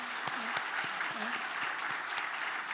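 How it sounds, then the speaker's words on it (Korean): A church congregation applauds during a Christmas Day morning worship service, a steady wash of clapping that fills the room for a few seconds, with faint voices mixed in. "우리 격려의 박수 한번 부탁합니다"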